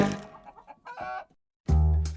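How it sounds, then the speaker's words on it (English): A chicken clucks in a quick series of short, close calls, followed by a louder, sustained crowing-like squawk that rises abruptly after a brief pause. "roaming the castle grounds in the form of a chicken, clucking indignantly"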